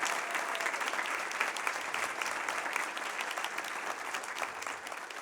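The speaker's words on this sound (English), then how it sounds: "Let's give another round of applause to Helen and all of our performers so far." Audience applause for performers at a holiday extravaganza show, a steady, dense clapping crowd filling the room at an even level for several seconds and tapering slightly at the end, with no talk over it.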